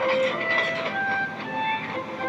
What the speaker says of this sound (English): Thomas puffed along the coast to the seaside